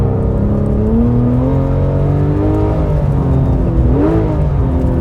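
A Porsche launches on a snowy ice track running narrow studded tires, its engine note climbing steadily through revs, loud and close, with a brief gear change near the end.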